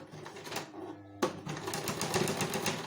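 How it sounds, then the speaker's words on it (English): A sewing machine stitches fabric for a gypsy skirt, giving a fast steady mechanical chatter at close range that starts after a short pause and then runs on without stopping. "you can see how close I'm sewing this"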